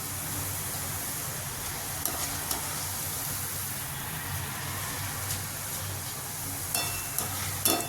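Aloo sev frying in oil over a medium gas flame, giving a steady, even sizzle and hiss that runs throughout with a few small crackles and pops near the end, with no talking.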